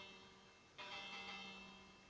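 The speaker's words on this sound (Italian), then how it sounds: "questo è un campanello" A bell in the Minecraft video game rings once with a bright metallic onset, then its tone lingers and slowly fades over a steady background hum.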